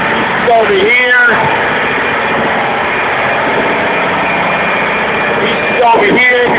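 The main engine and number 2 generator run in the engine room of the ship Pacific Producer, filling the space with a loud, unbroken mechanical roar, and a voice cuts in briefly near the start and again at the end.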